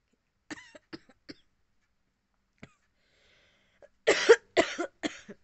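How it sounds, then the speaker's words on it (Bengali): A person with a cold coughing indoors at night: a few short, soft coughs spaced apart, then a louder burst of three or four harsh coughs near the end, in an otherwise quiet room. "কাশিটা আবার হচ্ছে"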